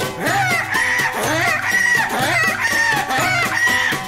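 Chickens cluck and a rooster crows repeatedly through a lively Bengali song, set against steady rhythmic music with a strong beat.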